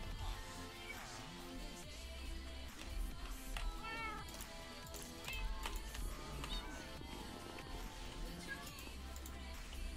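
Cat meowing inside the game Minecraft, short mews rising over busy in-game music and effects, with a person talking and laughing nearby.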